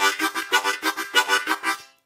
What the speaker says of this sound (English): I say tukka chukka when I'm doing the train rhythm